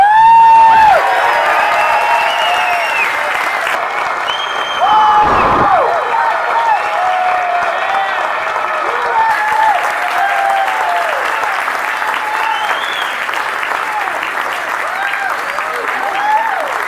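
A large political rally crowd in Butler County applauds steadily to welcome Donald Trump Jr., a loud continuous wash of clapping with whistles and cheers rising over it.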